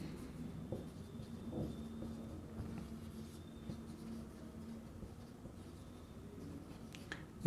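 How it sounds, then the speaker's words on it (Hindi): Marker or chalk scratches out writing on a board during a chemistry lesson, soft intermittent strokes and taps with faint room noise, and no speech over it. "इसको अच्छे से लिख देते हैं"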